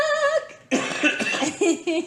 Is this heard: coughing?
yes